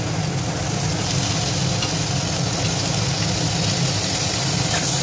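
Mashed potato filling for vada pav being stirred in a pan, a steady close scraping and soft sizzle running continuously with a low hum underneath.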